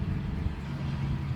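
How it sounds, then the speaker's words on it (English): A garbage truck outside rumbles past as a steady, low engine drone at moderate distance, continuous and without clear peaks. "What you're hearing is my garbage man."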